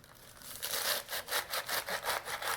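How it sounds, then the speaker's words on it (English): A good kitchen knife slices down through a head of escarole, cutting it into pieces about 1.5 inches wide, giving a series of crisp, rhythmic crunching strokes close by with no talk. "with a good knife, just go down like this"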